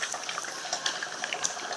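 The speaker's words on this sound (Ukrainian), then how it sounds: "Бочка кипить, але вже не так активно" Water in a barrel heated by a homemade pyrolysis wood boiler bubbles and pops steadily at a low, gentle simmer, close by and fairly quiet.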